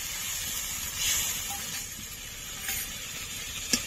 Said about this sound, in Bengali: এবার মশলা ধোয়া জল দিয়ে দেব।